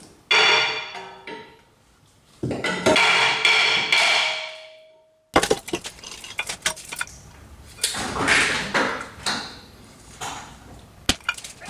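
Hammer blows knock a seized rear brake rotor off the hub of a 2015 BMW X3 (F25), striking through the opening behind the caliper. Sharp, loud metallic impacts come in bursts and irregular clusters, close up, with clatter and short pauses between.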